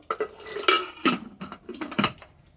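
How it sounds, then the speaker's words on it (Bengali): Metal clanks and clinks as a lid is handled and fitted onto a pressure cooker holding potatoes with turmeric and mustard oil. About five sharp knocks come in an uneven rhythm, close by. "এবার ঢাকনাটা লাগিয়ে দেব।"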